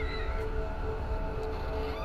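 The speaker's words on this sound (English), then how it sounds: "Cats." A cat meows in the horror video game The Evil Within, a faint drawn-out cry sitting low under a constant ambient game drone.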